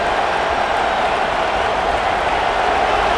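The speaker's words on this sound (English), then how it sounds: "This crowd is trying to inspire this defense to make a big red zone stop." Stadium crowd noise in the College Football 26 video game during a Michigan versus Nebraska matchup, a loud, sustained roar of cheering fans that holds steady throughout.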